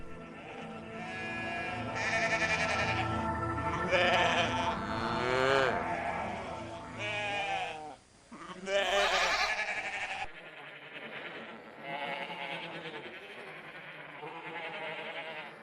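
A herd of sheep and goats bleats continuously on open grassland at sunset while returning to the fold, many overlapping calls near and far, loud and layered, with lambs and kids among them.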